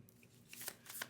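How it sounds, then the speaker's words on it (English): Tarot cards being shuffled give a short, soft riffling and flicking burst, quiet and close, with no talking. "I'm gonna shuffle a couple more times and we're gonna go into the tarot."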